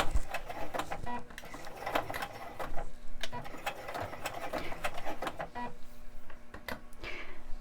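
A sewing machine stitches elastic onto a cloth doll diaper, a close, steady mechanical whirring with rapid needle clatter and brief pauses.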